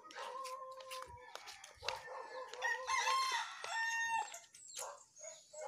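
Chickens cluck and squawk close by in busy, overlapping bursts, with a rooster-like crow and a few low thumps mixed in.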